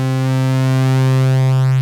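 A New Mexico Wavesplice synthesizer module holds a steady, loud tone with a strong fundamental and stacked harmonics, its upper partials slowly shifting as the blend moves toward a sine wave.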